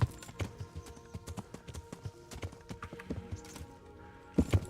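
Horse hooves clip-clopping over stones and brush in the medieval role-playing game Kingdom Come: Deliverance, a steady close rhythm of hoof strikes with a louder cluster near the end.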